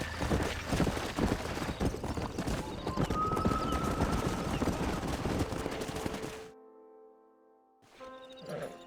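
Horses in Red Dead Redemption, with loud clip-clopping hooves and whinnies over busy game ambience, then a drop to a quieter musical tone before another burst of horse noise.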